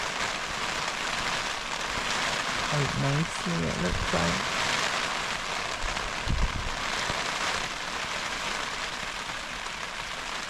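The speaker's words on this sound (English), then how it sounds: "So, it has started to rain" Steady rain patters and hisses on surfaces all around on Tresco in the Isles of Scilly, while a person speaks briefly over the downpour.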